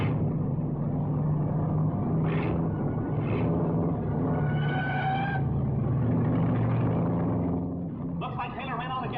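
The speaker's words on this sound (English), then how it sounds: "That Atlas car is certainly a marvel of the automobile industry, and Taylor's driving a brilliant race" Race car engine rumbling steadily through a 1940 auto race, a loud continuous drone that swells and shifts, with voices talking over it and a brief skid-like burst near the end.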